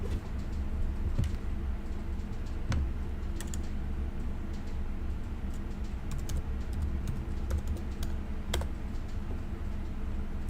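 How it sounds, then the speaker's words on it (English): Steady clicking of keys on a computer keyboard, rapid irregular taps with a few sharper strokes, close and moderately quiet over a low background hum. "You can try typing them as well and checking out the result."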